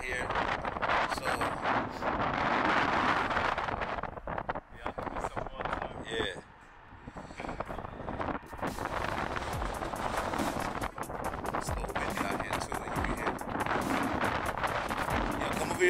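Wind gusting outdoors blusters against the microphone in a loud, steady roar with a brief lull midway, while someone talks throughout.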